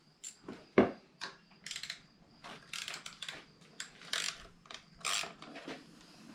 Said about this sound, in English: I'm gonna have to use a wrench, or a socket at least.